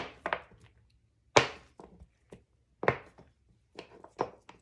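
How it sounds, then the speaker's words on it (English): A small handheld soap cutter chops a bar of honey bee soap into pieces, giving a series of sharp, close thunks and cuts in uneven bursts with short quiet gaps between them. "These little soap cutters are really handy for this because it makes it easy to cut it, and safe too."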